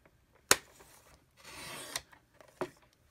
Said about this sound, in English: I'm just going to trim a little bit off the edge of that actually.